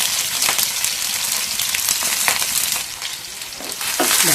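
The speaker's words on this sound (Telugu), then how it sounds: "హై ఫ్లేమ్లో పెట్టుకుని బాగా వేయించుకోండి." Flat beans fry in a pan over a high flame, giving a steady close sizzle with scraping stir strokes and occasional clicks of the utensil against the pan.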